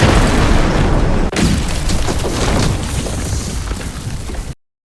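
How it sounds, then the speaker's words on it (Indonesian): A film explosion that shakes the ground, a loud, sustained rumbling blast that fills the whole stretch, briefly dipping once before rolling on and cutting off abruptly near the end. "lalu ledakan terjadi, mengguncang seluruh daratan"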